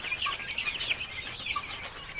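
Desi tiger chickens in a ventilated farm shed, soft scattered clucks and calls at moderate distance, fairly faint over a low background hum, no talking.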